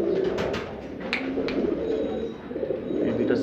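Fancy pigeons such as kings and Hungarians coo softly and repeatedly at close range in a loft, with faint background rustle and no speech.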